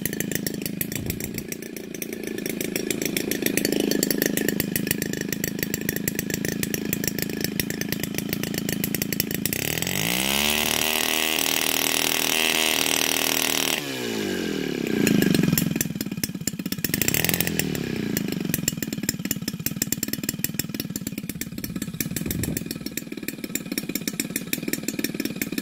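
An Evolution 35 GT model airplane engine with CDI ignition turns a heavy propeller, buzzing loudly and steadily like a small chainsaw, then rising sharply in pitch during a spool-up before dropping back to a rougher idle.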